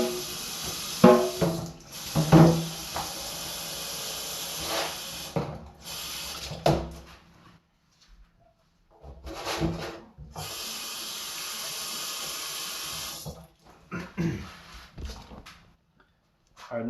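Vintage carbon steel knife rinsed under a running faucet with a little dish soap: bursts of gushing tap water broken by silent gaps, with rubbing and handling sounds and some nearby talk.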